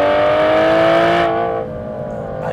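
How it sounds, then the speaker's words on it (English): An Aston Martin Vanquish V12 engine revs loudly and close as the driver drops a gear, the rising note holding then falling away into a lower idle-like hum. "there is nothing like the sound of a V12"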